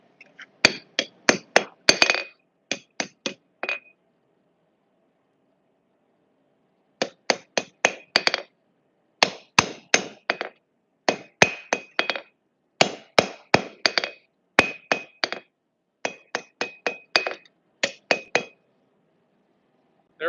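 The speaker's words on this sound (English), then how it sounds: "So I'll grab my hammer here." A blacksmith's hammer strikes hot steel while forging a pair of tongs on an anvil, ringing bright clinks in quick bursts of several blows separated by pauses, close and loud with no talking.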